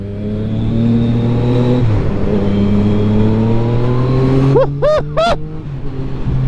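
A 2021 Yamaha MT-09 motorcycle runs close and loud, its engine droning steadily before the rider blips the throttle in a few sharp, quick revs near the end.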